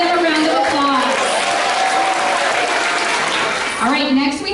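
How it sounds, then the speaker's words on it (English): A school awards assembly audience claps steadily, a dense, loud wash of applause that fades briefly near the end before a fresh burst with voices mixed in. "Let's give them a round of applause."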